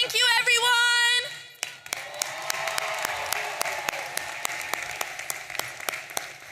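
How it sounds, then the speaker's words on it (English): Audience applause at a university commencement ceremony, a crowd clapping steadily with sharp individual claps standing out, rising after a brief loud tonal passage at the start and continuing at moderate level. "How about another round of applause for Nura?"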